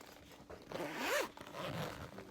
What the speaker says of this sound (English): It's fabric material. Comes with a handle. It zips up.